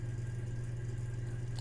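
Steady buzzing engine-like drone synthesized on the NES 2A03 pulse channel in a sawtooth-like style at about 224 hertz, continuous and even, with a faint click near the end.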